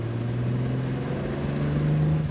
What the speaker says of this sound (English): Let's just see what that straight six sounds like if we just give it a little bit of throttle.